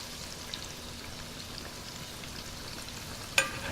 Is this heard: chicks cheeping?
no